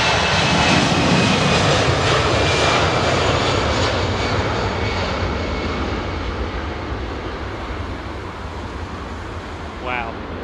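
An Airbus A321 at London Heathrow roars with a loud, broad jet-engine rush that is strongest at first and slowly eases off, close and steady throughout, with a brief chirp near the end.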